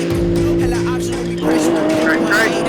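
Off-road race car pulling away from the start of the Vegas to Reno desert race in four-wheel drive, high range, its engine droning loud and steady, shifting pitch midway, with a voice speaking over the noise.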